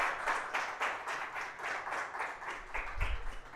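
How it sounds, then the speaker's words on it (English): A conference audience applauds at the end of a talk in a theater, rhythmic clapping rolling steadily and moderately loud, with a low thump near the end. "Let's give them a round of applause."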